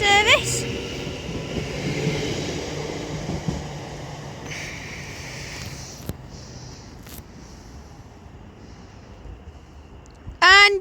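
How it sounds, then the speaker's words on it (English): A doubled-up West Midlands Railway Class 730 electric train pulls out of Lichfield Trent Valley, a rising electric motor whine over steady rumbling that fades into the distance, with brief high squeals at the start and end. "Now departing is going to be our final train of today, which will be a doubled up West Midlands Railway Class 730"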